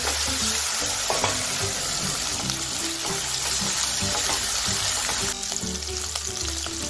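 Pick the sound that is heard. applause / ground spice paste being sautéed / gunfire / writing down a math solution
ground spice paste being sautéed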